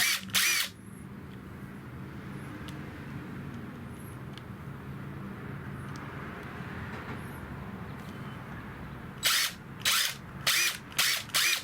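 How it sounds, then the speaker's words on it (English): A DEWALT power drill with a right angle attachment runs with a steady low whir, then gives several short, sharp bursts near the end. "left hand operating the drill tool"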